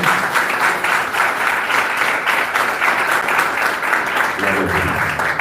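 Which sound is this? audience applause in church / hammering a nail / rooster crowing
audience applause in church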